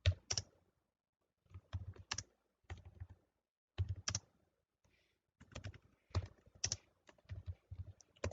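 Keys clatter on a computer keyboard in short bursts of rapid clicks separated by pauses, close and clear with no voices.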